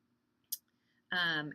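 A single sharp computer mouse click, brief and close, followed moments later by a person starting to talk.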